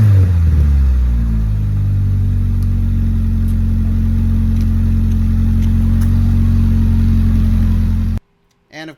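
A Honda Prelude fitted with a resonator exhaust fires up and settles into a strong, steady engine drone close by, with rev swells early on before it cuts off near the end.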